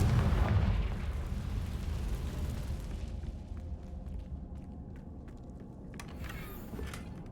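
A fire spell explosion in the Hogwarts Legacy video game, a deep booming blast that decays into a rumbling crackle, followed by faint scattered debris and clicks.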